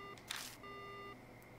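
In the video game Death Mark, a telephone receiver is lifted with a sharp click and a short burst of noise, followed by a steady electronic tone as the line goes dead, all fairly quiet.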